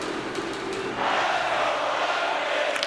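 Simulated hockey arena crowd from the NHL 26 video game, a Red Wings at Lightning playoff game, roars as a steady broad wash of noise that swells louder partway through, with faint sharp clacks on top.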